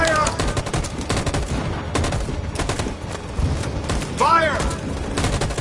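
Rapid gunfire in the game Detroit: Become Human, dense bursts of shots cracking continuously throughout, loud and close, with a shouted voice briefly mixed in.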